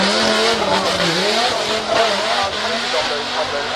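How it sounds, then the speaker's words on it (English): A drift car spins a donut at the Festival of Speed, its engine droning loud and steady with wavering pitch and a hiss of tyre smoke and squeal, while crowd voices and chatter sit faintly underneath. "you can see them spinning around while she's doing a donut"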